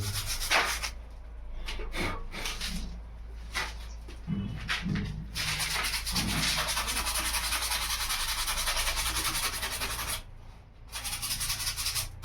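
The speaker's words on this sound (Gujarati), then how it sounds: "તો થોડો ઘસી નાખું તો કાર્બન આવી ગયો નીકળી જાય" Steady scraping rub as carbon buildup is scrubbed off a part during farm work in an onion field, a continuous gritty friction with brief pauses, close and fairly loud, with no speech.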